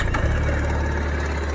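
A TVS RR 310 motorcycle engine settles into a steady low idle from its exhaust, close by and continuous, with a brief start-up burst at the beginning.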